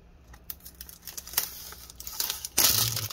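Plastic packaging around a new HP laptop battery is torn open up close: a quiet run of crinkles and snips that grows busier and louder, ending in a sharp burst of tearing.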